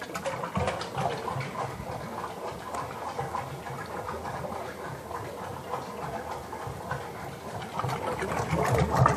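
An Infinite Overrun Control gelato machine runs with a steady mechanical churning whir and faint ticking, holding a continuous moderate level and swelling slightly louder toward the end.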